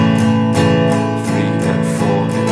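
Guitar slowly strums the chorus of a song, a steady run of sustained chords with regular strokes, close and loud with no voice over it.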